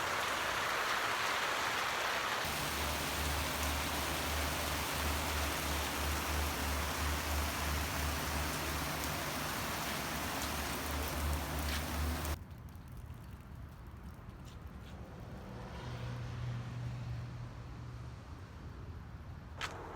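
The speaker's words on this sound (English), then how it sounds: "As you can see, it just started raining" Rain falls on a front yard as a dense, steady hiss, with a low engine-like hum underneath in the first half, then a quieter, thinner patter continuing to the end without any voices.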